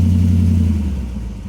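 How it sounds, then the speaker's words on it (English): A car engine with a Magnaflow catback exhaust gives a quick warm-start rev, a short low rumble that swells briefly and then settles back toward idle, close and alone. "Give it a quick rev. A little more."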